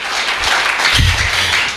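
A church congregation applauds in praise of God, steady broadband clapping from a crowd that swells slightly toward the end, with no speech over it.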